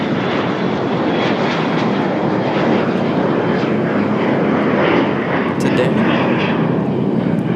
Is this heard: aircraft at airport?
yes